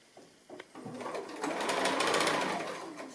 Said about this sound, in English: And now I can just stitch that on and then we'll be done.